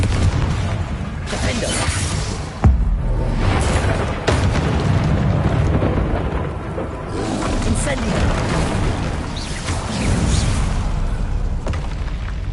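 A Confringo blast spell cast in the Hogwarts Legacy video game: dense, roaring booms with a sharp crack near the start and another hit soon after, loud and continuous over game sound.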